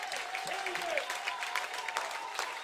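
Congregation at a church service clapping and cheering in praise, a moderate, fairly faint mix of applause with voices and tonal calls woven through it.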